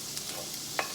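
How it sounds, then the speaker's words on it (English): Chopped ginger and garlic sizzle in hot oil over a high flame, a quiet, steady hiss with a couple of brief stirring scrapes, close by. "Now we are going to add the chopped ginger and garlic."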